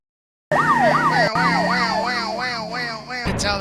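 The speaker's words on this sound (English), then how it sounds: "I can tell that's an American siren." An American emergency vehicle siren wails loudly and close, its pitch sweeping up and down in a steady repeating cycle, then shifting to faster sweeps near the end, with no talking.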